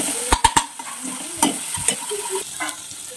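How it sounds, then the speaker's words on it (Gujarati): Chopped garlic sizzles in ghee in a pan, with a few sharp clinks of a spoon stirring against the metal over a soft, steady frying hiss and no talk. "લસણની કટાશ જાય ત્યાં સુધી બરાબર સાંતળી લેવાનું છે"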